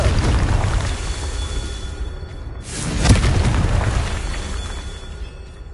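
A Confringo blasting spell explodes in Hogwarts Legacy, a deep boom with a sharp burst at its peak, rising out of a rumbling game background and fading slowly over a couple of seconds.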